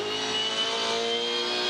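Supercars race cars exit turn 5 at Ipswich during the 2014 Ipswich 400, giving a continuous, loud, high-pitched engine roar that stays steady throughout with no talk.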